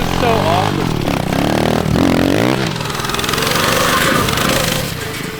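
A small mini bike engine revs on a backyard dirt track, its buzzing, rising and falling drone staying loud and close throughout, with voices partly audible beneath it.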